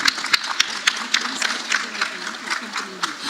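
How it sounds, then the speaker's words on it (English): An audience at a regional conference claps to welcome a speaker onto the dais, with scattered, moderately loud hand claps in an uneven rhythm across a large hall. "With a warm round of applause"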